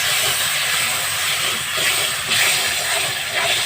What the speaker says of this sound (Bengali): এরপরে লঙ্কাটা যেন পুড়ে না যায়, তার মধ্যে একটু জল দিয়ে দিতে হবে।